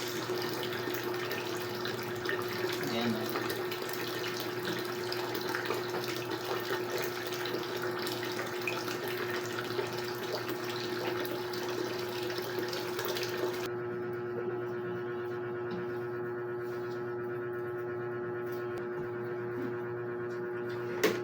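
Water runs steadily from a tap into an aquarium for a long stretch, a continuous hissing flow, which partway through changes to a lower, hollower tone with a hum.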